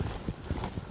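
A horse's hooves thud in a quick, rolling loping gait during a riding session, a steady rhythm of soft beats, close, with broadband arena noise around it.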